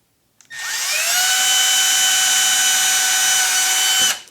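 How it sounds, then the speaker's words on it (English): A power drill whines up to speed and runs steadily for a few seconds pre-drilling into wood, loud and close, then winds down. "I'm going to take a drill and pre-drill"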